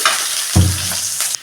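Chopped onion and green chilli dropped into hot oil with mustard seeds, a sudden burst of loud sizzling that settles into steady crackling frying, close up.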